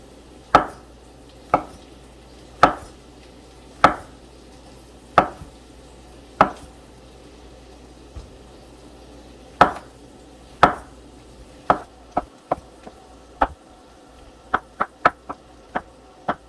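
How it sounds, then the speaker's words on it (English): A knife chops washed mushrooms on a cutting board: crisp, separate thuds about a second apart, then quicker clustered taps toward the end, close and clear with no talk. "So now we're just going to go ahead and chop them up."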